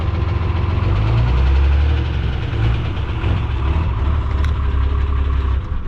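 A damaged 12-valve Cummins diesel engine runs with no oil pressure and no coolant, a loud, steady low rumble with rough knocking throughout, close and alone.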